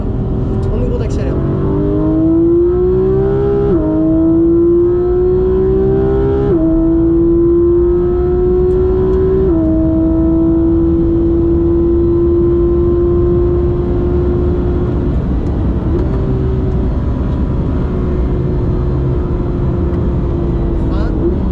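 Porsche race car on a circuit, engine climbing in pitch through repeated gear changes as it accelerates hard, loud and close throughout, likely heard from on board, with no one speaking over it.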